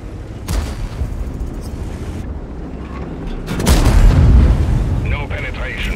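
World of Tanks tank cannon fire in a battle on the Arzagir map: heavy booming shots, one loud close blast midway with a rumbling tail, along with spoken voices.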